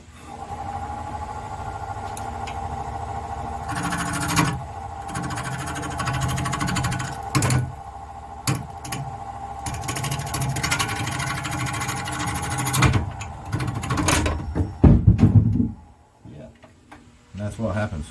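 Carbide tool cutting a crotch maple bowl on a wood lathe, a steady droning whir with repeated ticking bounces and knocks from a big gap in the blank, the cut surging and breaking off near the end.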